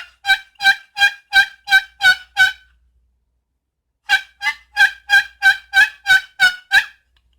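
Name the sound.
box turkey call imitating hen turkey yelping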